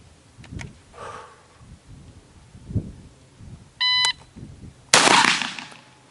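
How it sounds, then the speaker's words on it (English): On a firing range, a shot timer beeps and then a shotgun fires one loud blast at a target, with a ringing decay. Faint handling noises come before it. "Now we're going to shoot it one shot in the head."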